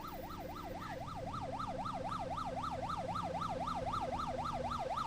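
A police car siren wails steadily in the video game The Precinct, rising and falling in a fast, regular yelp pattern over low traffic rumble, loud and continuous.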